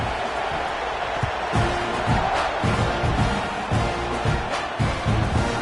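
A football stadium crowd at a Notre Dame vs Texas A&M game before a kickoff sends up a loud, continuous roar. Rhythmic low thumps pulse steadily underneath it.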